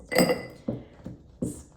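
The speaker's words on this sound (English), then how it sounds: "gonna have ice cubes" Ice cubes clinking into a glass for iced coffee, three separate clattering knocks spaced about half a second apart, fairly close and alone.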